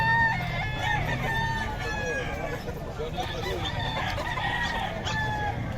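Roosters crow repeatedly and hens cluck at a backyard poultry spot in Bocaue, the overlapping calls moderately near over a low, steady background hum.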